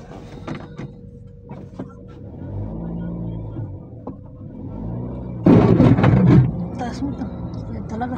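The underside of a sedan carrying about 200 kg scrapes the road in a sudden loud grinding burst of roughly one second. The car's engine hums steadily around it, and people talk inside the car.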